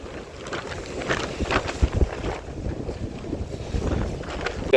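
Sea waves wash onto Puri's Niladri beach in a continuous, broadband surge with strong wind buffeting the microphone, no voices over it.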